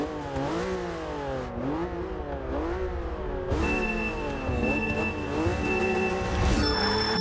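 A Porsche race car engine in Forza Motorsport 6 revs hard through repeated rising gear pulls, loud and close, with a brief tire squeal as it accelerates.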